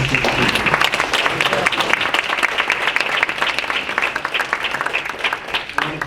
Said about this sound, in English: a little bit of a round of applause